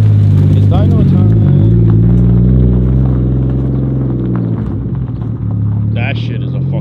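A Toyota Supra MK4 engine runs on a dyno, giving a loud, steady low rumble that holds for several seconds and eases slightly near the end.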